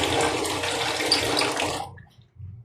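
Water splashes and pours loudly while small whole fish are rinsed by hand, then it stops abruptly, leaving a brief quiet gap and a last faint splash.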